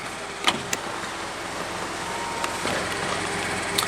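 Power windows of a Scion FR-S moving up, a steady electric motor whine inside the cabin with a few small clicks and thumps at the start and end.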